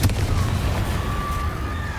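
A Confringo blasting spell fired in Hogwarts Legacy: a sharp explosive burst at the start followed by a sustained crackling, whooshing rumble with a faint rising whistle tone.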